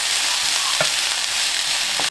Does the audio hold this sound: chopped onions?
yes